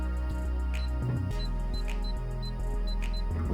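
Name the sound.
entering default code on home safe keypad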